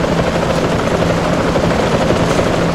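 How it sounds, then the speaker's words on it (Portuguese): Helicopter rotor chopping steadily in the video game GTA with an Ant-Man mod, a loud continuous whirring drone with no talk over it. "Não dá pra pegar o helicóptero."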